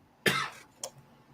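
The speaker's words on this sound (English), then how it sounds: "I start freaking coughing my guts up" A person coughs twice at night, a harsh, forceful cough followed by a shorter, lighter one, close and clear against a quiet room.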